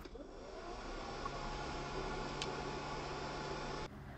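A hair dryer blows air at a toy car, giving a steady, faint whooshing hiss from start to finish before cutting off near the end.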